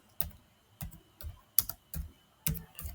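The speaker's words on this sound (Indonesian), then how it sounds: "Nah, kita coba ketik Hyperlane" Computer keyboard typing while a project name is entered into a search: about seven separate, crisp keystroke clicks spaced unevenly over a few seconds, close and fairly quiet, with no voice.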